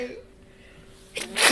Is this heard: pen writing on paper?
no